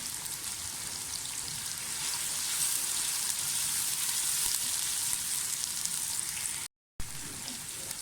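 Cumin seeds sizzling in hot oil for mutton gosht, a dense, steady crackling hiss close up that runs without pause, broken only by a brief cut near the end.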